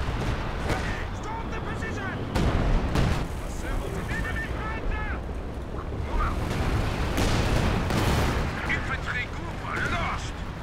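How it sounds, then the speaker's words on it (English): Artillery and gunfire boom and rattle in a World War II battle in the video game Company of Heroes 2, with dense, continuous explosions and shots throughout. Players talk over the combat. "I'm going artillery support."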